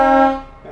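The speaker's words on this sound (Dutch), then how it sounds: "Dubbele toeter." A two-tone horn on a DAF truck blares once, loud and close, its bright sustained chord holding for about a third of a second before fading away.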